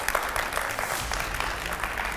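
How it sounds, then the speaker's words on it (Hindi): A television studio audience applauds to welcome a guest on a Shani astrology show, fairly quiet but steady clapping lasting a couple of seconds. "तालियों से स्वागत करिए दाती महाराज का"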